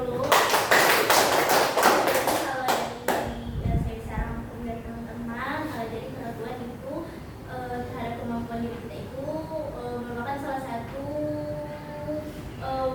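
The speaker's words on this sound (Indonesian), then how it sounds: "Kita tepuk tangan" A group claps hands together in a group counselling session, a dense burst of brisk, overlapping claps for about three seconds before it stops and a voice carries on talking.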